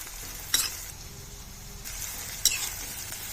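Onion pieces, cumin and mustard seeds fry in hot oil with a steady close hiss, punctuated by two sharp spatters or utensil clinks, no voices present.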